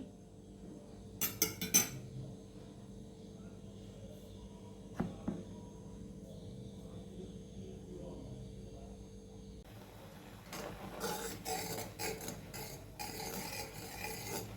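A spoon stirs coconut halwa with milk in a pan over a slow flame: a few sharp metal clinks early on, then a quiet stretch, then steady scraping and tapping toward the end.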